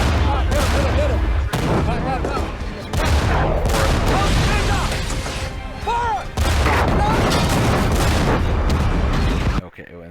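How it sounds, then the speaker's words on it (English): Heavy tank gunfire and explosions striking an armored vehicle crash in loud repeated bursts amid chaotic battle noise, with shouting voices and rumbling booms layered throughout. "This is the explosion from hitting an armored vehicle with a tank gun."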